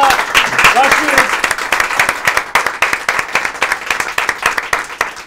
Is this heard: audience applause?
yes